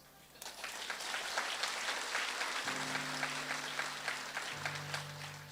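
A church congregation claps during a sermon, the applause swelling into a steady, fairly close patter over a low sustained hum that shifts pitch partway through.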